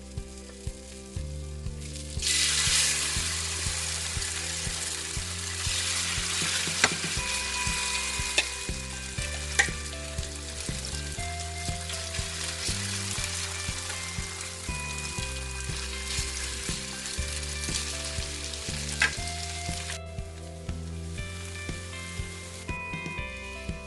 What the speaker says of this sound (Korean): 식용유를 추가로 더 넣어주고 나머지 한 장을 더 구워 보겠습니다.